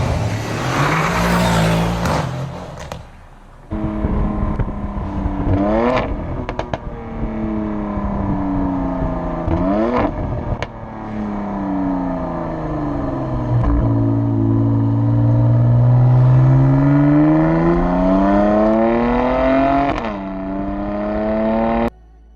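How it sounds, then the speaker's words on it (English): A Mercedes C63 AMG engine revs hard and loud, its pitch sweeping up and down through repeated aggressive throttle blips and sustained climbs, with sharp breaks between pulls and no talking. "The C63 does sound much better and much more aggressive"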